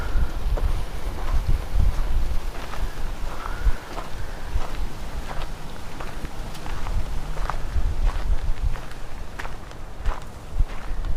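Steady wind rumble buffets the microphone throughout at the historic Gilman Ranch, with faint footsteps and scattered clicks mixed into the gusty low roar.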